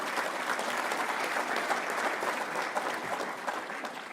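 Sustained applause from a large audience for visiting presidents, a dense, steady wash of clapping that holds at an even level from start to finish with no voices over it.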